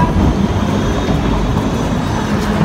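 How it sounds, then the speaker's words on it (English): A tram rolls past on a street in Amsterdam, a steady, loud rumble of wheels on rails with low rolling noise filling the short stretch, no voices over it. "Tram."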